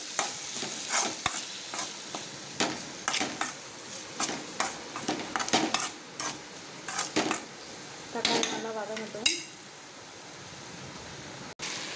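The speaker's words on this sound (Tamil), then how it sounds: "தேவையான அளவு உப்பு. நல்லா வதக்கிட்டு போங்க." Tomatoes and dried anchovy sautéing with salt in a pan, a repeated rhythm of spatula scrapes and stirs over a low sizzle, close and fairly quiet.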